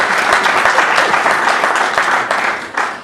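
Audience at a book event breaks into steady applause, a dense continuous wash of clapping from many hands that holds strong throughout.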